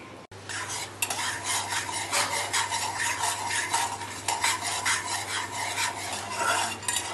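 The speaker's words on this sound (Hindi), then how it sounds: "बीच बीच में हम इसको स्टर भी करेंगे, अच्छे से चलाते रहेंगे जिससे कि वो कहीं चिपका ना रहे।" Stirring hot sugar syrup in a pan, just off the gas flame, with a continuous scraping, rasping rhythm of a spoon against the metal, close and steady, over a faint low hum.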